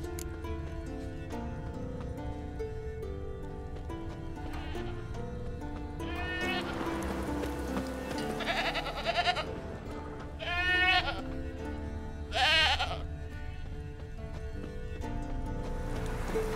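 A tethered goat in The Witcher 3 bleats several times over ambient game music, with three or four distinct wavering cries in the latter half, fairly close and clear.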